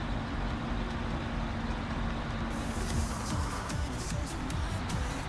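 A GMC truck engine in the video game Snowrunner drones steadily at low pitch throughout, a continuous rumble with no speech over it.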